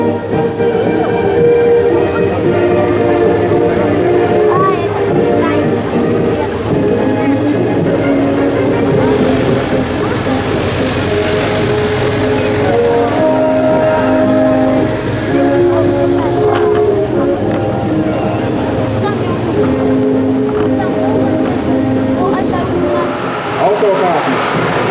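Iveco-based military vehicles roll past in a national independence day parade in Krāslava, Latvia, a steady loud engine drone with droning tonal hum sustained throughout, and no clear voices over it.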